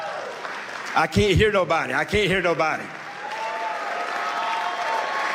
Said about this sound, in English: Can you just give yourself a really big hand clap?